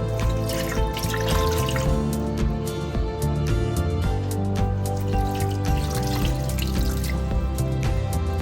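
Water runs continuously into a pot of boiled, peeled mango with jaggery for a mango curry. Close, steady trickling and splashing is heard throughout, with no talk.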